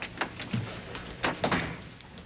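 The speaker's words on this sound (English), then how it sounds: "Close the door." A door closing indoors, heard as a few soft thunks and knocks at low level with no one talking over it.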